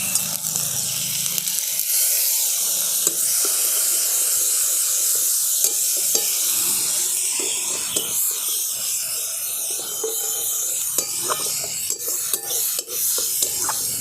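Tomato paste frying with ginger in a pan: a steady, bright sizzle runs throughout, with scattered scraping and stirring ticks against the pan, fairly close and with no talking.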